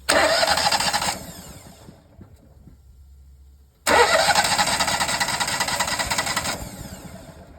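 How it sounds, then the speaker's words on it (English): A Lincoln Ranger 330 MPX welder generator's engine cranks and catches, runs briefly and dies down, then is started again and settles into a loud close idle with a steady whine. "I'm gonna go ahead and kick the machine on."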